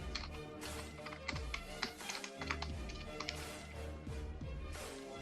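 Rapid taps on a computer keyboard as a command is typed on a Windows 10 client computer, a quick irregular run of light clicks at close range with no talk.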